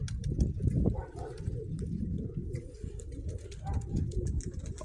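Pigeons coo in low, throaty murmurs, repeated continuously and close by, with faint rustling around them.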